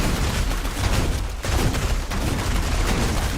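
Demon Hunter turrets in Diablo 3 unload on a target, a dense, continuous barrage of overlapping rapid shots and thuds that stays loud and close for several seconds with a short dip midway.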